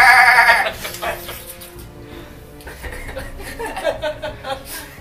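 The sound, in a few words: person imitating goat bleat of chimera's goat head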